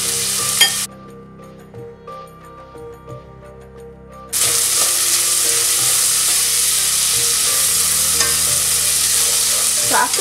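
Seasoning for smoked salmon rice frying and being stirred in a pan, a close steady sizzle with scraping stirs that briefly drops away before returning louder and continuous.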